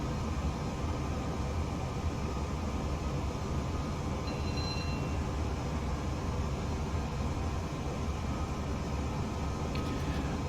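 Steady, dense rumble and rush of a Class 370 APT-P tilting train accelerating at speed between London and Birmingham in Train Simulator Classic, a constant, close, unbroken roar of running noise with faint higher tones.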